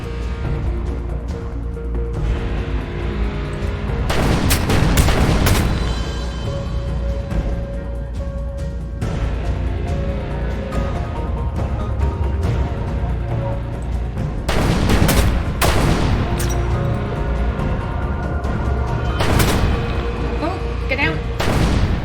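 Gunfire in the video game Cognition: An Erica Reed Thriller, several loud bursts of shots standing out over a constant background hum.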